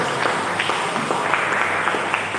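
Audience at a Tuban NU Care LAZISNU Palang ceremony gives a short round of applause, a steady mass of claps that is moderately loud and continuous throughout, with no clear speech over it.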